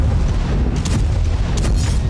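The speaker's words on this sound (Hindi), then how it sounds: "इजराइल ने लेबनान में अल जुमैजमा और मजदल सलीम में रात के अंधेरे में जबरदस्त बमबारी की" Explosions from night-time Israeli bombardment in Lebanon come through as a heavy, continuous low rumble, with dull booms swelling at intervals and no voices.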